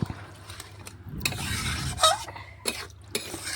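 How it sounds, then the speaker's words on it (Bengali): Mutton curry with papaya is stirred in a kadai with a metal spatula, giving short scraping and clinking strokes over a low simmer, close by and moderately quiet. "একটু খুরপি দিয়ে নাড়াচাড়া করে কড়ার সাইডে যে মশলা ছিল সেটাও গুলিয়ে নিলাম"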